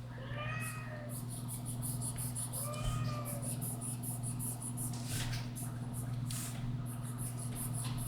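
A pet cat meows twice for attention, short rising-falling calls close by, over a steady low electrical hum and scattered faint clicks and rustles.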